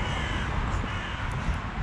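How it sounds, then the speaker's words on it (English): Crows caw in the background outdoors in Bradford, a few calls rising over a steady wash of wind and ambient noise. "Ignore the crows in the background"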